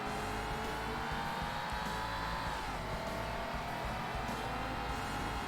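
Racing car engines from the Forza video game roar continuously and loudly, revving with steady harmonic whine that dips in pitch midway as the car shifts or eases off, with no talk over it.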